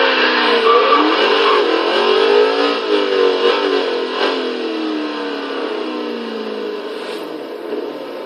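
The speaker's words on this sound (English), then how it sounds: "can this old race car drift?" A 1969 Lola T70 MkIIIB race car in Forza Horizon 3 roars steadily, its engine note climbing and shifting as it revs hard, loud and continuous with no talking.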